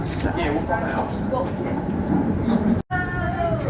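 A Sydney commuter train with doors between its cars rumbles along toward the Harbour Bridge, a steady close interior roar with a sudden brief dropout near the end, and voices talking over it.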